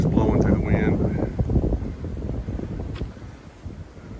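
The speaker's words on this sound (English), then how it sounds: "got a little sleet. It's just blowing through the wind" Sleet blown by gusting wind on an Appalachian Trail mountain top, a steady loud rushing roar with buffeting against the microphone, easing slightly toward the end.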